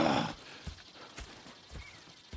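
Horse hooves clip-clop at a steady walking pace in Red Dead Redemption 2, moderately near, with a brief whinny and faint game ambience underneath.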